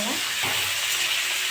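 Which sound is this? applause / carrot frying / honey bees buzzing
carrot frying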